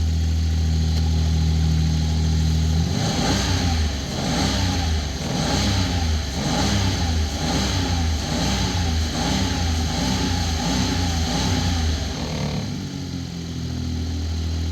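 A Smart 451 car engine, freshly repaired for a misfire with new spark plugs and ignition coils, starts up and runs steadily for about ten seconds with an even pulsing throb, then cuts back to quieter background.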